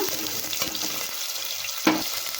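Onions with cumin fry in oil in a pressure cooker, a steady close sizzle with a few soft stirring knocks and one sharper clank near the end.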